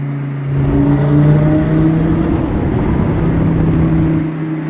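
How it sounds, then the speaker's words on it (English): An Audi R8 V10 fitted with an aftermarket exhaust revs inside a tunnel: a loud, rich, steady engine drone close by that swells slightly and holds for several seconds, with no talking. "It's got a nice rich sound to it. It's definitely got an aftermarket exhaust."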